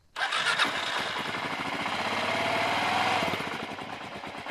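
A Kawasaki KLR-650 motorcycle engine cranks briefly then fires and settles into a close, loud, steady thumping idle that carries on for several seconds.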